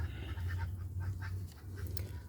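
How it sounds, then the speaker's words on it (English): Ducks and chickens in their coop on a small farm quack and cluck in a brief, close, continuous burst over a low background hum. "Here is the birds in their coop."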